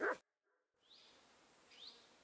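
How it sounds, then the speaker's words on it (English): A single abrupt bark from a dog in the medieval game Kingdom Come Deliverance 2 cuts off sharply, followed by near silence and a faint outdoor ambience with soft high chirps. "Man, I hate that dog."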